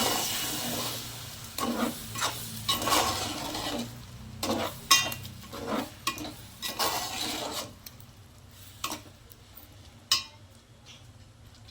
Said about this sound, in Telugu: ఇప్పుడు దీంట్లో మనం ఈ టమాటా పేస్ట్ను కూడా పోసేసుకుందాం.